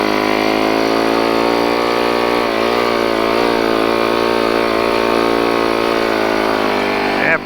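A Quiver Nemesis snowbike engine drones loud and close as it climbs a snowy slope at an angle, a steady mid-pitched roar with slight shifts in pitch, running alone without talk until it cuts off at the end.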